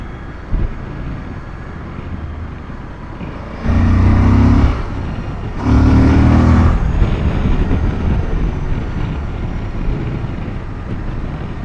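Suzuki 1050XT adventure motorcycle accelerating hard in third gear, its engine roar swelling in two loud surges over steady wind buffeting across the helmet.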